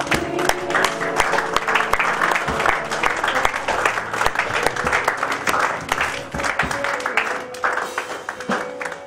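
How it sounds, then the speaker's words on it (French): A church congregation applauds and cheers in praise, with loud, uneven clapping and some crowd voices continuing throughout. "Acclame le Seigneur bien fort."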